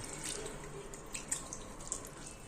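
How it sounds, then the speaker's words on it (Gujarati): Water runs quietly and steadily from a kitchen tap as fresh chhena curds are rinsed, with a few small drips and splashes on top. "હવે પાણી વડે આપણે તેને પ્રોપર રીતે ધોઈ લેશું જેથી વિનેગરની ફ્લેવર છે તે આમાંથી નીકળી જાય"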